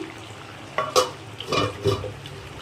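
Patiala chicken and biryani chicken cooking in pots side by side: a few scraping stirs of a utensil against the pot over a low frying sizzle, close and distinct, with no talking.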